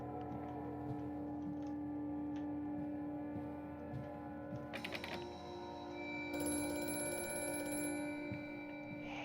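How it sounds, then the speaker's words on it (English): A telephone bell rings in the horror game Amnesia: A Machine for Pigs, a steady tone sustained over a low mechanical hum and ambient drone, with brighter bursts partway through. "Hate that fucking ringing."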